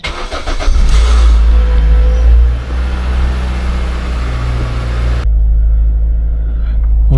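A 7th-generation Toyota Celica engine runs after an IAC valve rebuild, a loud close rumble with an early rev that settles into a steady low idle throughout.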